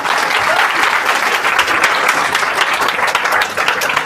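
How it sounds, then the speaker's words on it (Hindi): An audience at a Hindi-language RCM business motivational meeting breaks into steady, dense applause that fills the whole moment loudly, with no speech over it. "ताली बजा दीजिए एक बार।"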